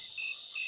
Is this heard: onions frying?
no